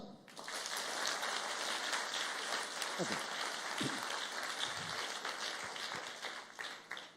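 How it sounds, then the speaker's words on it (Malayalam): Children at a school awareness event applaud together in a dense, sustained round of clapping that fills the whole stretch, with brief voices underneath. "എല്ലാ കുട്ടികളും ഒരുമിച്ച് ഒരു നല്ല ക്ലാപ്പ്"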